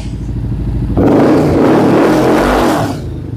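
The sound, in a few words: 750 cc twin-engine superbike revving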